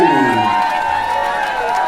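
A crowd cheers and whoops loudly for a Marilyn Monroe act on a comedy stage. The cheering is continuous and close, with a bright tonal sweep riding over it.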